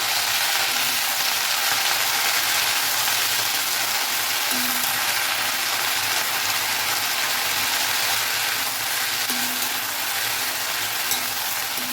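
Mint leaves sauté in hot oil in a pan, giving a continuous bright sizzling hiss close by, steady throughout with faint low engine-like hum beneath.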